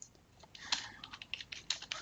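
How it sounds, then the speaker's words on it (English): Someone types on a computer keyboard, producing a steady patter of soft, quick key clicks at close range, fairly quiet and with no talking. "You just get started, start typing."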